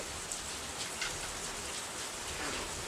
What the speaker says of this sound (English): Yeah, this rain is going to come down.